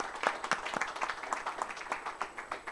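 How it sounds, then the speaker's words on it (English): Applause at a football press conference in Ghana, a steady patter of many hands clapping at moderate distance, fairly quiet and even for nearly three seconds. "Can we please clap hands for him?"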